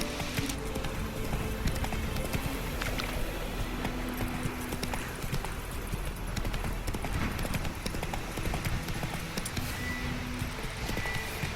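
A horse gallops in The Witcher 3 video game, rapid rhythmic hoofbeats pounding steadily and close throughout, over a constant background rumble.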